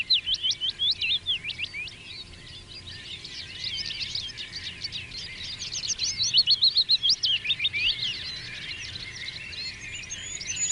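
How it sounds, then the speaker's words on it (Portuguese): Small birds sing and chirp in dense vegetation, with rapid high trills and quick repeated tweets coming in bursts throughout, fairly close and clear over a quiet background. "O som é o sinal ideal para os pássaros"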